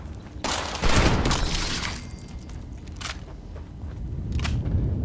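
Heavy booming shotgun blasts from the Fallout 76 Wastelanders campaign, a few widely spaced loud shots, each with a short crackling tail, over steady low game rumble.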